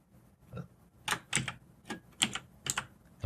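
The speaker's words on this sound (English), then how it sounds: "I'm going to type in the word answer" Keystrokes on a computer keyboard while entering JavaScript code, a handful of crisp, close taps in small irregular clusters with quiet gaps between them and no talking.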